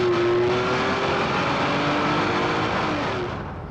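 A Mercedes SL320 with a 3.2-litre straight six accelerates hard on kick-down, its engine note rising steadily in a loud, close drone that eases off near the end, with no talking.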